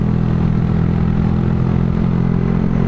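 A Honda Grom MSX125 motorcycle with a cheap aftermarket exhaust rides along, its small engine giving a steady, loud, close buzzing drone with a throaty, rumbling low tone.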